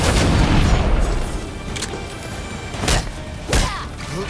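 Combat gunfire and heavy impacts from the Gotham Knights video game, a few loud booming bursts spaced irregularly over a dense, noisy action background, with the last sharp blast near the end.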